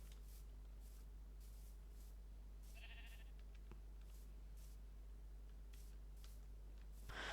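Faint sheep bleats sound a few times over a steady low hum and soft shuffling noises, with a brighter burst at the very end, in Minecraft Java Edition.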